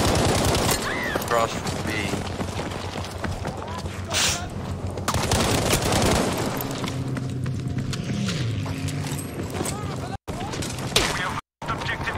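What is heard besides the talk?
machine gun fire in Battlefield V video game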